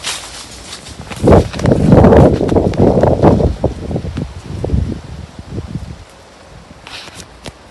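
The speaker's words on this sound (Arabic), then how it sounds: "معلش ان الهوا شديد، انا على قد ما اقدر بنداري الهوا" Strong wind gusts hit the microphone on a citrus farm with a heavy, rumbling rush that swells, then eases, as leaves rustle nearby.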